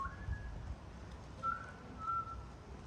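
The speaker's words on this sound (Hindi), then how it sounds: "गोरा सीटियाँ बजा रहा।" A man whistles a few short, faint tones outside Linlithgow Palace in Scotland, thin sustained notes rising over low ambient rumble.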